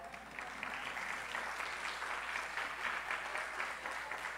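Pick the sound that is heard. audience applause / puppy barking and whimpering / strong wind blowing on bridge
audience applause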